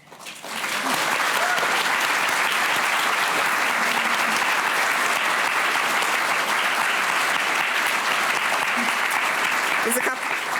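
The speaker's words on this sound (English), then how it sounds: "we can do plenty of rounds of applause" Sustained applause from a seated audience thanking a discussion panel at the close of an event, a dense, steady wash of clapping that swells in within the first second and holds evenly to the end.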